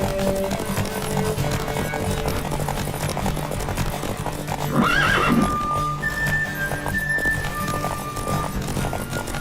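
Roach, the horse from The Witcher 3 video game, gives a sharp whinny midway over a steady bed of galloping hoofbeats and game ambience, close and fairly loud with no voices.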